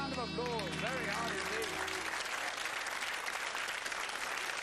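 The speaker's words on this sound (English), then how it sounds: "Give him a round of applause." Studio audience applause on the Blockbusters TV quiz show, steady dense clapping from a crowd that rises under fading music and then carries on alone.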